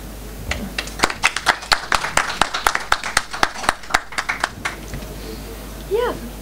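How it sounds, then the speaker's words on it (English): Audience at a poetry slam clapping for the poet Mariam, a burst of brisk applause from a modest crowd that thins out and fades after a few seconds. "Let's give her another round of applause."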